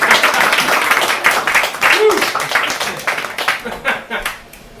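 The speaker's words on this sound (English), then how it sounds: "we need to keep the applause going for another few seconds" Applause from an audience at an open-mic poetry evening, a steady dense clapping that carries on for several seconds and fades toward the end.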